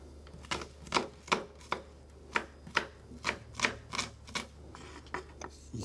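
A shallot chopped with a knife on a board, about a dozen crisp, evenly spaced cuts at close range in a quiet room.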